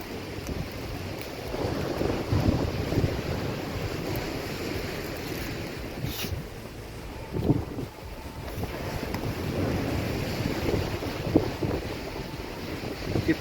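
Extremely rough sea crashes onto the shingle at Chesil Beach under strong wind, with steady surf roar, wind buffeting the microphone and a few louder wave surges breaking close by.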